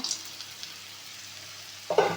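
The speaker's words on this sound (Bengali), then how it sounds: "এবার ভালো করে নেড়ে নেব দেখতেই পাচ্ছ শাকটা ভাজা হয়ে গেছে" Red amaranth greens fry in a pan with a steady low sizzle, and a brief louder scrape of stirring comes near the end.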